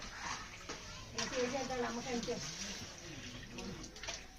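Water splashing and pouring during washing at home, with clothes getting wet, heard close and fairly steady under a child's and adult's voices.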